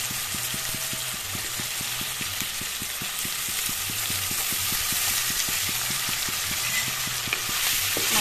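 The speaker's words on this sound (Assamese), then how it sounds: "এতিয়া মাছখিনি এপিচ এপিচকৈ বহুৱাই দিম" Pieces of borali fish settle into hot oil with a constant, close sizzle that swells slightly toward the end, steady and unbroken, over a faint repeating low beat and no voices.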